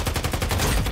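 Rapid automatic gunfire from Warzone Mobile, a loud, close burst of evenly spaced shots lasting about a second with no talking.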